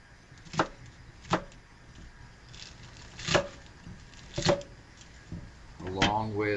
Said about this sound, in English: Next, I'm going to chop up some green onions, 3 green onions.